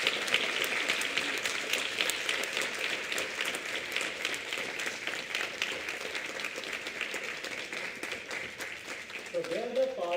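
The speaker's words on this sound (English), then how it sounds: "Please give them a huge round of applause." A crowd at a mushroom summit in India applauds steadily throughout, a dense wash of clapping heard from a distance, with a voice briefly audible near the end.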